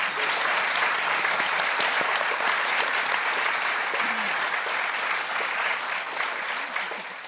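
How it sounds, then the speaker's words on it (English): Audience at a live awards finale gives sustained applause to a group of science and innovation award finalists, a dense, steady wash of many hands clapping that holds throughout and eases slightly at the end. "Let's give them the applause they deserve."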